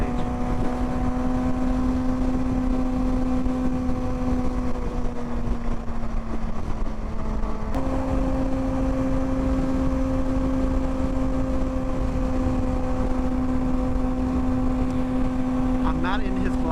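A Kawasaki Ninja motorcycle engine hums steadily at a constant pitch while riding, with a brief dip and a shift around the middle, under heavy wind rush and some talking.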